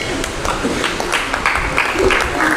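Audience clapping at a mushaira, an Urdu poetry gathering, greets a poet with short, scattered bursts of applause of moderate loudness.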